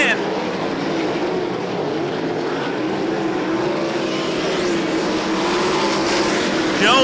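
Sprint cars race around a raceway, their engines a continuous loud roar that rises and falls as they pass through the turns, under a race announcer's commentary.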